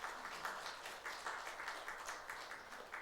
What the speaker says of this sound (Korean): 따뜻한 박수를 부탁드립니다.